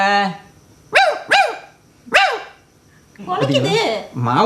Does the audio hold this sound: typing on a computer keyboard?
no